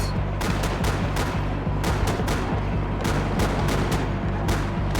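Gunfire rattles in Max Payne 3 as cops are shot, heavy rapid bursts of shots over a booming low rumble, loud and nearly nonstop.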